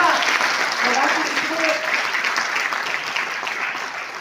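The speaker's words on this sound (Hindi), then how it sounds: "बिग राउंड ऑफ अप्लॉज आप लोग अपने लिए ताली बजा लें" An audience at a district science event applauds the students, a dense, steady round of clapping that holds at full strength and then eases slightly toward the end.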